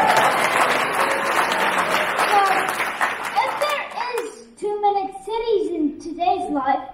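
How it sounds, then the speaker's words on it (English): Close applause and cheering from a crowd at a public meeting fills the first few seconds, then thins into scattered claps while a voice speaks over it. "So don't forget to give him a big cheer."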